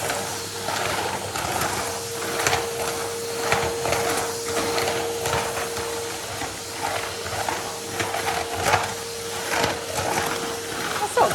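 A Henry Extra Large vacuum cleaner runs with a steady loud drone and hiss, with a sustained whine throughout and irregular scraping and clunking as it moves over surfaces.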